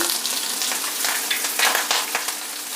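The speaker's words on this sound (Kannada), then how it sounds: "ಎಣ್ಣೆ ಬಿಸಿಯಾಗಿದೆ ಈಗ ಸಾಸಿವೆ ಹಾಕ್ತಾಯಿದ್ದೀನಿ ಉದ್ದಿನಬೇಳೆ ಕಡಲೆಬೇಳೆ ಕರಿಬೇವಿನ ಸೊಪ್ಪು ಹಸಿಮೆಣಸಿನ್ಕಾಯಿ" Mustard seeds, urad and chana dal, curry leaves and green chillies sizzle and crackle steadily in hot oil for a South Indian tempering, a close, continuous frying hiss with small popping bursts and no talking.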